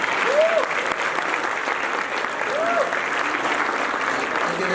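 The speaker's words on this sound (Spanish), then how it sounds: "para que pedimos un fuerte aplauso" Sustained applause from an audience at an academic panel honoring a speaker, a dense steady patter of many hands clapping throughout, fairly loud with faint crowd murmur.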